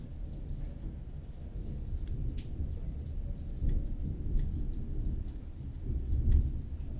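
Steady rain falls through a thunderstorm, with deep rolling thunder rumbling underneath and swelling in several slow surges. There is no talk.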